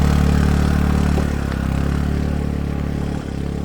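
Motorbike climbing a steep hill road on the way to a mountain temple: a close, steady engine drone with a throbbing low pulse, held under load with no pause.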